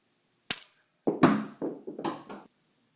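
A homemade Spetsnaz-style ballistic knife fired at a cardboard box from about 25 feet: one sharp snap, then a second crack followed by a quick run of clattering thuds, close and loud, with no talking.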